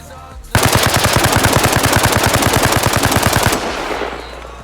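A long burst of automatic rifle fire in Arma Reforger, about thirty rapid evenly spaced shots, loud and close, ending abruptly with echoing tail fading into quiet.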